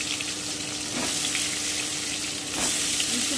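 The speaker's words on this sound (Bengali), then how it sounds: "খুব ভালো করে এবার ভেজে নিচ্ছি" Potatoes coated with salt, turmeric and Kashmiri chilli powder fry in hot oil for mutton korma, giving a steady, loud, close sizzle with two brief surges as they are stirred.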